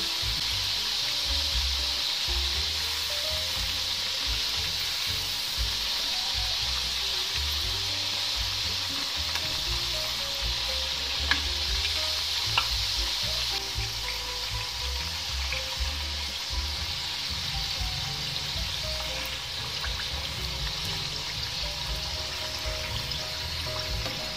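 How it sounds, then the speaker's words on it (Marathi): Rice-flour chakli deep-frying in hot oil over a medium flame makes a continuous, even hiss with fine crackle that holds steady and close for a long stretch, with no voices. "चकली तळताना गॅस मीडियम फ्लेमवरच ठेवा, म्हणजे आपली दोन्ही साईडनी चकली छान अशी कुरकुरीत तळली जाते"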